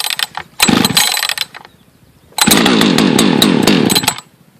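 A Husqvarna 562xp chainsaw is pull-started, catching briefly in a short loud burst, then roaring again for nearly two seconds before cutting off, close up with clicks and handling noises between.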